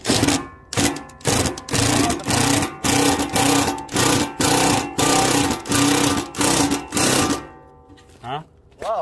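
A power impact tool drives a bolt into a new steel mailbox, firing in a loud, steady series of about a dozen short rattling bursts close by, then stopping as a voice speaks.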